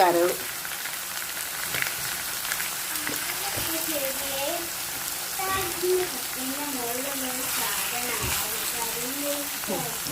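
Liver frying in a pan gives a steady, close crackling sizzle that runs throughout, with people talking over it.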